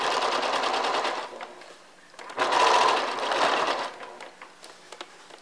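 Sewing machine stitching the side seam of a 1910s-style camisole, two close bursts of rapid, steady whirring separated by a short pause, ending in a few faint clicks.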